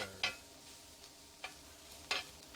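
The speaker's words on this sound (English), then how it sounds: "let's give that bad boy a little stir" A spoon stirs food in a pot during an outdoor brisket totcho cook, giving a few soft scraping swishes spaced apart over faint background sizzle, quiet and close with no talking.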